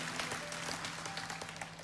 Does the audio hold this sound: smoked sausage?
no